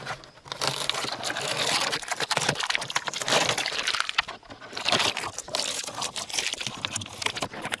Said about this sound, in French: j'enlève l'adhésif parce que là il n'y en aura plus besoin